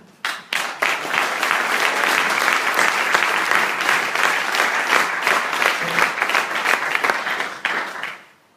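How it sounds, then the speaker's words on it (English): An audience at a makeathon presentation event breaks into loud, sustained applause after the team presentations, dense clapping that starts abruptly, holds steady for several seconds and then fades out. "we have to give one really, really big applause for all the teams, for all the presentations"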